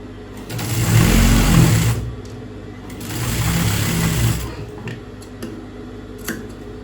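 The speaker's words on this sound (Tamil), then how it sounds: "இது துணியோட நல்ல பக்கத்தில் மேலே வச்சு நான் தைக்கிறேன்" A sewing machine stitches piping onto fabric, running loud and close in two sustained runs separated by a short pause, followed by a few faint ticks.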